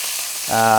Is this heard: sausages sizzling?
yes